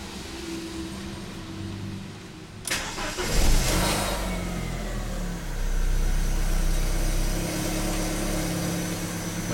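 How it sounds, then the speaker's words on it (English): A manual BMW car engine cold-starts with a sharp crank-and-catch burst, then settles into a rough, uneven idle that rumbles steadily with a slight rise in revs midway, heard close by with no talk. "every time I start the car"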